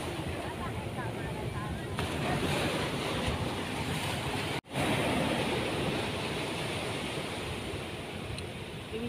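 Ocean waves wash onto Batu Putih beach at Suak Utara, Lampung, Indonesia, in the morning, making a constant broad surf roar mixed with wind buffeting the microphone, with one brief dropout midway.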